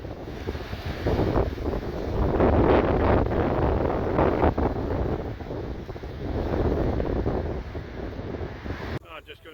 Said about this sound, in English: It's still really windy. And the waves coming in.